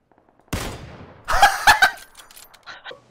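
Gunfire in a video game: a sharp burst at the start, then a cluster of loud, ringing shots with metallic reports, fading into scattered lighter noises.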